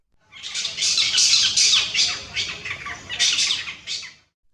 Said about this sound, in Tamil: ஆந்தை அலறியது